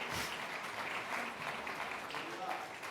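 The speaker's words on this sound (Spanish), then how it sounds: "Dele esas palmas al Señor" Church congregation clapping during a Sunday service, a soft, steady patter of many hands heard at a distance, with voices speaking over it.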